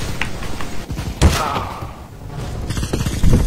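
Bursts of SMG gunfire in a Christmas snowball shooter game, loud and punchy with a sharp report partway through, mixed with game noise and faint voices.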